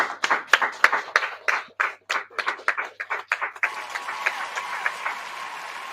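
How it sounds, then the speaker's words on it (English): A small audience at a press conference about an arrest claps, with distinct close handclaps in an uneven rhythm that settle into a denser, steadier round of applause. "So I would like to applaud them."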